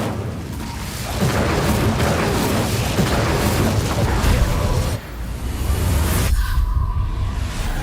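Incendio fire spell cast in Hogwarts Legacy, a loud roaring burst of flame and booming impacts that sustain densely, with a brief drop midway before surging again.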